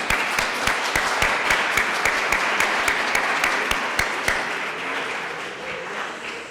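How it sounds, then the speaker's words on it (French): Audience applause at an awards gala ceremony, sustained, dense clapping from a large crowd with a few sharp individual claps standing out, gradually fading toward the end. "j'aimerais une bonne main d'applaudissement à tous nos organismes"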